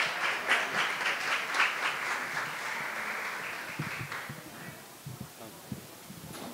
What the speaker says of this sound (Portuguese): Senhoras e senhores, uma salva de palmas